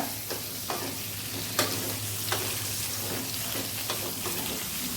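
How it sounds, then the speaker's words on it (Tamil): Raw plantain pieces fry in oil with a steady, close sizzle while being stirred, and soft scrapes and taps of the spoon punctuate the frying. "வாழைக்காய் போட்டு நல்லா திரட்டி விடுங்க ஆயிலில்"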